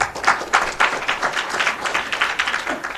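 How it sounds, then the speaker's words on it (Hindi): Audience applause from a crowd at a religious discourse gathering in India, a steady, dense patter of many hands clapping for about three seconds without breaks. "आप ताली बजाइए एक बार इनके"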